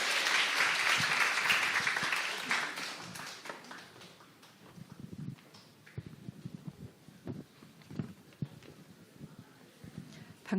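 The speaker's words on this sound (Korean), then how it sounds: "큰 박수로 환영해 주시기 바랍니다." A church audience at a forum bursts into loud, dense applause to welcome a pastor, which fades after a couple of seconds into scattered claps and taps.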